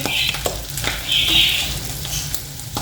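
Chilli sauce hits a hot pan of frying samosa filling of mince and spring onion, bursting into a loud hiss that swells and fades. Scraping stir strokes follow over a continuous frying crackle.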